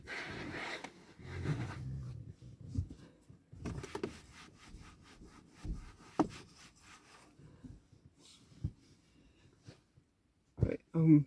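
A cloth sprayed with cleaner is rubbed around a Ford Fiesta Zetec S Black Edition dashboard. The rubbing and wiping is soft and intermittent, with occasional knocks and a louder thump, heard close up. There is no talking.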